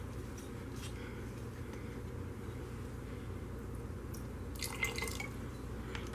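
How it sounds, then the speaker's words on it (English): Liquid smoke poured into a pot of collard greens, a soft dripping trickle over a steady low background hiss, with one slightly louder splash near the end. "I'm going to put some liquid smoke in there."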